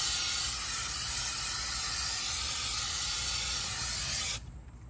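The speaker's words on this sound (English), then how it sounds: "I'm gonna give it another little spray down" Steady, close hiss of an aerosol spray aimed at a brake rotor on a Lexus GX470 during rear brake work, holding at a constant level for about four seconds before stopping abruptly.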